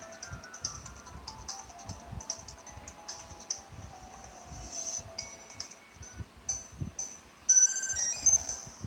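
A mobile phone rings during a live gaming stream, its repeated electronic ringtone tones sounding over keyboard clicks and low background noise, growing louder and more insistent toward the end.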